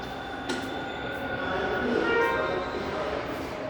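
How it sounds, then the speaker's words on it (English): A Toronto Line 2 subway train arrives at Castle Frank Station with a swelling rumble and faint metallic wheel whine, growing louder before easing off. "And hopefully that's not my train."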